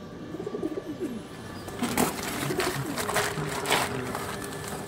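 A pair of Star Kalanka pigeons coos softly up close, a short run of rolling calls at the start, then steady background noise and a few clicks and rustles take over, with no talking.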